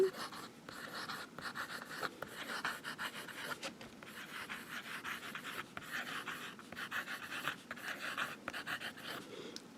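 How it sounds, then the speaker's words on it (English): A Sheaffer matte black fountain pen writing fast on paper, a soft close scratching of the nib in quick rhythmic strokes with brief pauses between words, quiet and alone. "now we'll do some fast writing."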